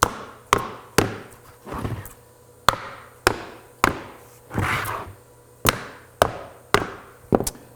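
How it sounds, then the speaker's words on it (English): Sharp knocks and thuds from tapping the sides of an HDPE mold to free cured epoxy, about a dozen hits at a loose, uneven pace, close and fairly loud, with a few duller, longer thumps in between and no talking. "And now what I like to do to remove these out of the forms, no matter the size, we're gonna tap the sides."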